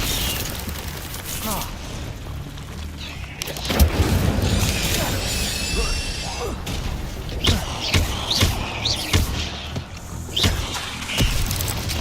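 Spell effects for Incendio and Protego in the video game Hogwarts Legacy burst out one after another, a busy run of booms, thuds and whooshing impacts with rapid, uneven rhythm, moderately loud throughout.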